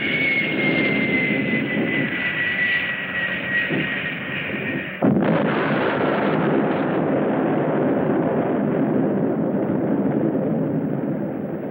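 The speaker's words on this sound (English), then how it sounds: "Only a nuclear bomb could cause a blast like that." A huge blast in a 1966 monster film: a jet-like roar gives way to a sudden sharp explosion midway, followed by a loud, sustained rumbling roar.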